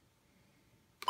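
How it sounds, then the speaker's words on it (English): A single short electronic beep from pressing the backlight button on a WR-120 weather radio, clear and close at the very end after near silence. "backlight button beeps"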